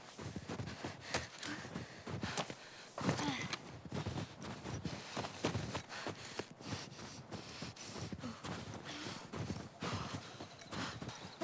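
Horse hooves clip-clopping in the video game The Last of Us, irregular bursts of hoofbeats with a snort or whinny, mixed with game noise and occasional breathy sounds.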